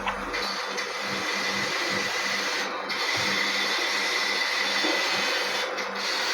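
A mixer grinder blends cooled cooked mutton masala with a loud, steady motor whir and gritty churning, briefly pausing twice and restarting, close up and without talk.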